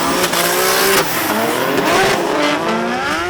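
A turbo drift car with anti-lag revs hard and loud, its engine note climbing and falling in ragged surges, with a sharp pop near the one-second mark and a hint of tyre squeal.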